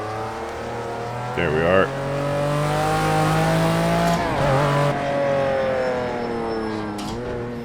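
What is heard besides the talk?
race car engine in a racing sim video game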